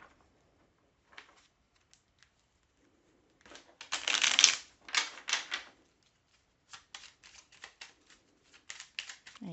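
Oracle Belline divination cards being shuffled by hand, with a dense riffling burst in the middle followed by a run of quick, close card snaps and taps, fairly faint, with no talking.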